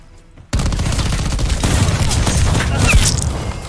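Sudden onset of loud, dense gunfire in Call of Duty Black Ops 4, with SG-12 shotgun shots mixed into continuous battle noise and sharp reports, close and sustained.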